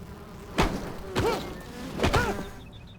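Bees buzz in the video game Enshrouded, three short swelling buzzes passing close by with dull thuds between them, no voices.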